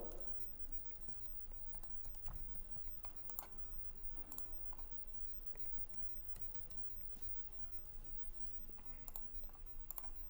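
Clicks on a computer sound faintly and sparsely over a low room hum, with a few crisp ticks spread through the stretch and a couple of quick double clicks.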